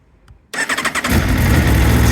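An Aprilia Tuono V4 motorcycle starts on the button: a brief starter whirr catches into a loud, close engine that settles into a rough, throbbing idle.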